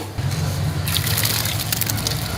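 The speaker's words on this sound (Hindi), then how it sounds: "तो अब हम ये पानी निकाल देते हैं, इसको छान लेते हैं।" Hot water from boiled rice pours and splashes through a strainer in a home kitchen, a steady close-up gush and slosh that continues throughout without pause.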